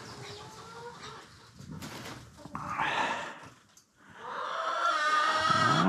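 Hens shut inside a coop cluck and murmur in short, scattered bursts at close range, with rustling and a brief pause before a denser run of calls near the end.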